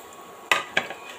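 Ingredients for manathakkali kulambu are sautéed in hot oil in a pan, heard as two close metallic clinks of a spoon against the pan with a faint trailing rattle and only a slight sizzle.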